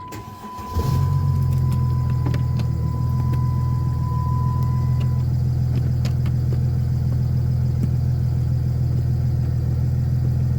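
A Chrysler 300C engine cranks and catches just under a second in, then settles into a steady, loud, even idle that continues to the end, with no voices present.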